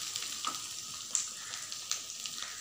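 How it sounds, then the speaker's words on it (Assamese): Spice masala of salt, coriander, cumin and chili powders fries in a pan for Assamese fish gravy, a quiet, steady close sizzle broken by a few light stirring clicks. "মছলাখিনি ভালকে অলপ ভাজি লব"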